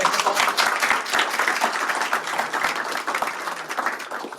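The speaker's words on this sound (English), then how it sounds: "a huge round of applause for my Enso team, my core team" A college fest audience at a podcast session gives the core organizing team a round of applause, loud close clapping with distinct sharp hand strikes that gradually tapers.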